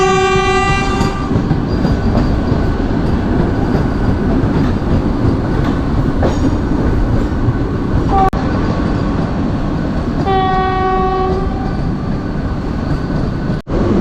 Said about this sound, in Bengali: হাওড়া পুরী বন্দে ভারত। আমাদের সবার মানে গর্ব কিন্তু এই বন্দে ভারত এখন পাস করছে।